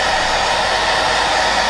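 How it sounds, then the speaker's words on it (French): A hair dryer on its cool setting blows steadily over drying face paint glue, a loud, even, continuous whoosh with no pauses or voices. "soit vous mettez un petit coup de sèche-cheveux"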